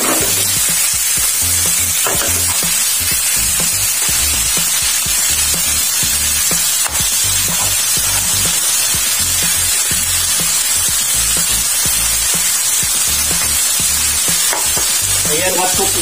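Beef frying hard in a hot pan while being stirred, a loud, dense and continuous sizzle with repeated scraping and tossing strokes throughout, close up and with no talking.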